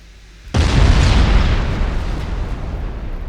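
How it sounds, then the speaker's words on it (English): A warship blows up in Ultimate Admiral Dreadnought, opening with a sudden loud blast after a brief quiet lead-in, then a sustained roaring rumble that slowly fades. "We're gonna see this explode."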